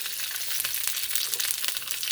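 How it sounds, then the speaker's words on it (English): Peppers frying in oil in a hot wok, a dense, bright sizzle and crackle close up with scattered pops, steady throughout with no talking. "in that hot wok, I'm gonna put a smidget more oil in there, and I'm gonna come at them with the pepper"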